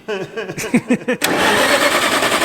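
An engine with a newly replaced starter cranks several times in quick rhythmic pulses, then catches and fires into a steady running roar, loud and close.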